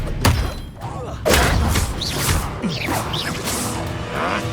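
Spell casts from Hogwarts Legacy, a burst of whooshing magic with thuds and crash-like impacts, loud and repeated across a few seconds, with game sounds layered underneath.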